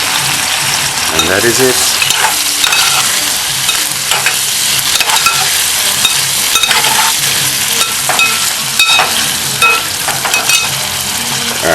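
Sardines sizzling and frying in a pan, Jamaican style, with tomato stirred in; a steady loud crackle with occasional utensil scrapes runs throughout, and a voice speaks briefly.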